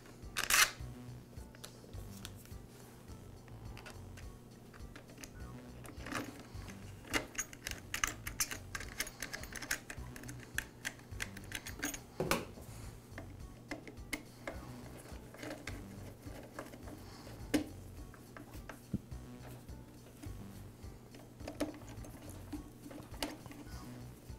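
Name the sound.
reinstalling air filter base and carburetor on Husqvarna backpack blower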